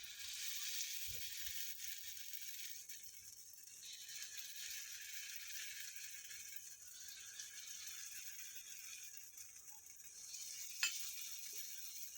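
Moong dal batter fries in oil in a paniyaram pan with a faint, steady sizzle and crackle, alongside a few light metallic clicks, quiet and close, with no voices.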